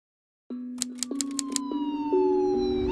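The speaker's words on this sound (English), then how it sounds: "The sirens went off" A police siren starts abruptly and holds a steady rising tone while sharp clicking taps rattle over it, the wail swelling louder toward the end.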